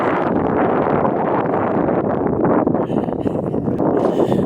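Loud, buffeting wind blasting straight into the microphone outdoors near the Capitol in Washington, a constant roaring rumble with gusty flutter throughout.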